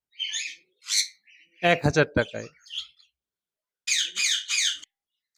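A caged pair of pet diamond doves with a chick gives short, bright chirps in separate bursts, close by, while a person talks between the calls.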